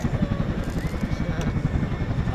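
RAF Chinook twin-rotor helicopter hovering at an airshow, a loud steady low rotor thump with pulsing beats and engine roar, continuous throughout.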